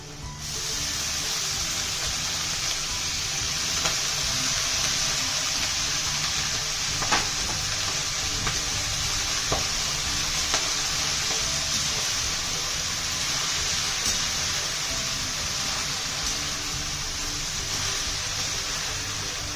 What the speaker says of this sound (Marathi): आता ही व्यवस्थित फ्राय झाली डाळ की लगेच आपण मेथीची भाजी घालणार आहोत